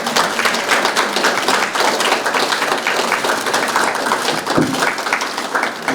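A forum audience at a founding assembly in the National Assembly claps together for several seconds, steady, dense applause close by with a few sharper individual claps.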